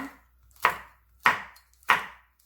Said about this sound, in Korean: 청양고추, 홍고추 썰어줍니다.